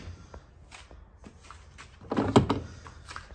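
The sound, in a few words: washing machine door being shut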